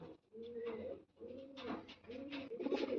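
A white-eyed pigeon with purple feet coos in soft, repeated throaty phrases, close by, with faint background noise and no one talking.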